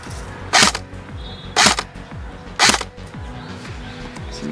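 An ICS CXP-MARS Komodo airsoft rifle firing .25 ICS BBs during a chronograph test: three sharp, evenly spaced shots about a second apart, each a crisp snap over a low background hum, with no talking.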